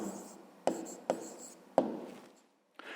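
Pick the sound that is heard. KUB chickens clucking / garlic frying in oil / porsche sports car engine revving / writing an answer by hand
writing an answer by hand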